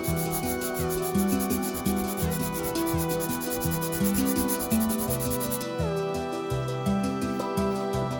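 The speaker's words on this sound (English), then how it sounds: "I'm sanding the overlapping edges to smooth out the sides." Steady back-and-forth sanding on the overlapping edges of a CNC-machined wooden Matterhorn model, a repeated rhythmic rasping stroke over a constant background hum.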